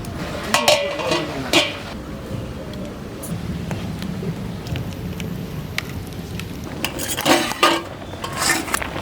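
A cooking pot set onto a lit stove for khichuri clatters and clanks metallically in scattered knocks over a soft, crackling background, while a person talks throughout.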